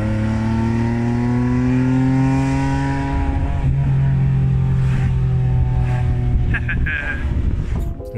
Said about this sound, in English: that was a fun excuse to go for a drive in the Beat